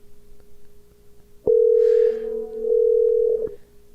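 Telephone tone sounding after a hang-up: a sharp click, then a loud steady electronic tone lasting about two seconds that shifts pitch midway and cuts off with another click, over faint background hum.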